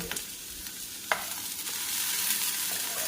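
A spoon stirs an okra stir-fry with turmeric and crushed chili in a pan, a steady close sizzle with a couple of brief scraping clicks as the pieces are turned.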